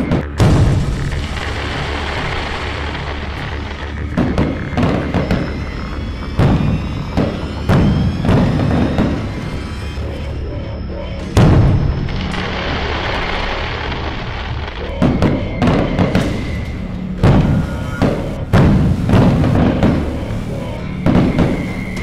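Firecrackers burst close to a house, a loud series of sharp bangs and booms spaced irregularly over about twenty seconds, some crackling in quick bursts between the heavier blasts.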